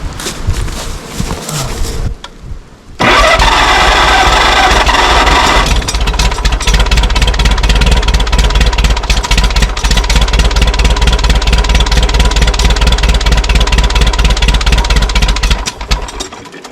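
Tractor engine with an updraft carburetor cold-starting and then idling, a loud, close, steady rhythmic chugging rumble that runs for about twelve seconds before cutting off, with a quieter stretch before it catches.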